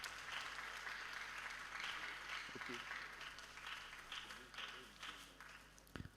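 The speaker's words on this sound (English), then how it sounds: "let's give her a round of applause" An audience claps at a school mental health event in Osun, a steady broad wash of applause that holds for several seconds and slowly thins toward the end, with faint voices beneath it.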